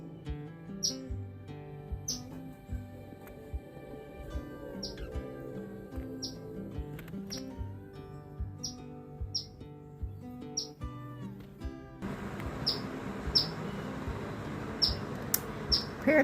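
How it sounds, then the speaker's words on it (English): Parrots on a farm call out in repeated sharp chirps and tweets, a steady run of short squawks close by with more busy chatter in the final seconds, no talk. "Parrots are mad at me"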